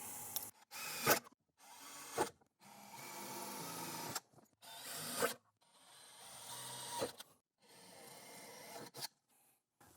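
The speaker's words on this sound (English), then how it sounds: "I'm going to start by drilling a small pilot hole first." A power drill bores small pilot holes in a metal battery tray on a Tacoma for nutserts, with several rasping bursts of drilling a second or two long, each broken by short silent gaps.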